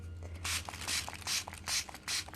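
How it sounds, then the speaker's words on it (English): A handheld water sprayer mists a mushroom grow bag in five quick, close, hissing bursts, each about a quarter second long with short pauses between them. "I'm going to spray the bag, spray some on the floor."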